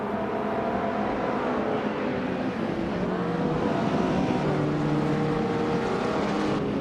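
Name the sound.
classic 1983 Porsche 911 S racing in a racing video game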